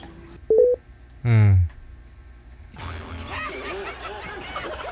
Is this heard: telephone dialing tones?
yes